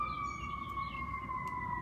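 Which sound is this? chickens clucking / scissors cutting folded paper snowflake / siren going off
siren going off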